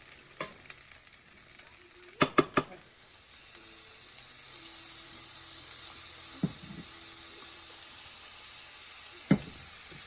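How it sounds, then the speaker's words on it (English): Steady sizzling of about a cup of rice frying in a pan for a ground beef stir fry, with a few sharp clatters of stirring near the start and occasional scrapes later. "that's about a cup of rice that I'm frying up right there"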